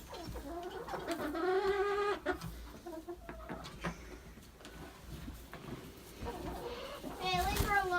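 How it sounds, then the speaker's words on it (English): Rooster and hens clucking and crowing in a snowy backyard coop at night, several bird calls rising in bursts near and loud, with people talking over them. "Hey, leave her alone, Rooster"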